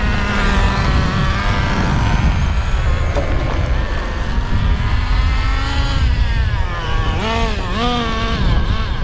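A Traxxas Nitro Slash 3.3 nitro RC car runs its engine during break-in, a loud continuous buzzing whine that rises and falls in pitch as it speeds up and slows, with no talk over it.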